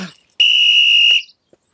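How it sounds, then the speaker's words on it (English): A single sharp, shrill whistle blast signals a change of direction, held steady for nearly a second, loud and close, after a brief voice fragment at the start. "The whistle tells you when you need to change direction."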